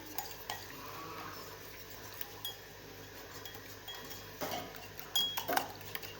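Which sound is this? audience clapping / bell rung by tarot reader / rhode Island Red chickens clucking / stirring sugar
stirring sugar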